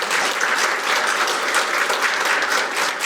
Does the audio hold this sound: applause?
yes